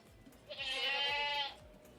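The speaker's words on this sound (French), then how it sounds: "Une brebis, une chèvre. Une chèvre." A single goat bleat, about a second long and wavering, played alone over a quiet room during an evening sound-guessing game at a drawing event in Montpellier.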